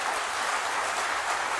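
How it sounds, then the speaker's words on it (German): Audience applause at an AfD political rally with Alexander Gauland in Germany, steady dense clapping from a large crowd heard at moderate distance, no voices on top. "Applaus"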